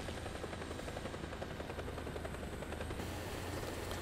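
A Mi-24 helicopter flies in the War Thunder video game, its rotor and turbine roar a steady, loud, continuous drone with a fast chopping pulse, heard alone without speech.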